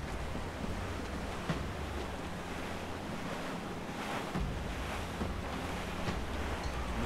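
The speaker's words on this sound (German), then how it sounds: "There's a strong wind now." Strong wind and open ocean at sea in the video game Assassin's Creed 4 Black Flag, sailing aboard a ship; a continuous roar of wind and surging waves with occasional gusty swells and no speech.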